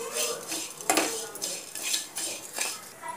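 A spoon scrapes and clinks steadily against a pan while poha is stirred with turmeric and salt over low heat, a busy continuous metallic scraping with no voices.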